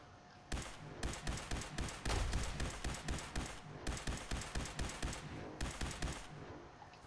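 Rapid bursts of automatic gunfire from the video game Fallout 4, sharp repeated shots in clustered volleys with brief gaps between, fairly close and free of speech.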